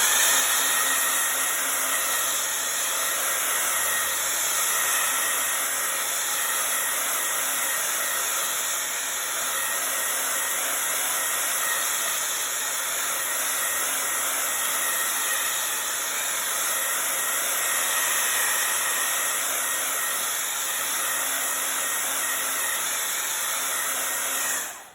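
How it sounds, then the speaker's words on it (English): A blow dryer runs steadily at close range for the whole stretch, drying paint on a painted flower piece, a continuous airy whir with hiss and no talk over it. "I got my blow dryer hooked up, ready to go. I'm just gonna blow this dry"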